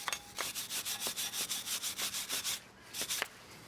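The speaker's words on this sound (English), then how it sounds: "I use a slag hammer and a wire brush to clean the seams." A wire brush scrubs brazed steel seams in about fourteen steady, rhythmic strokes, each a loud rasping burst, with a short pause before the last couple of strokes.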